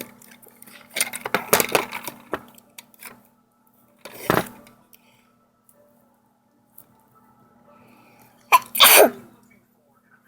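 A child sneezes sharply in a room, with small clicks and clatter from a gumball machine being worked on with a screwdriver before and around it; a second sharp burst follows later.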